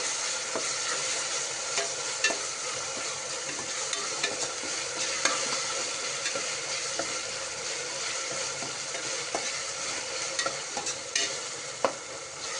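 Spices sizzle steadily in a hot pan, close up, with a spoon scraping and stirring now and then throughout.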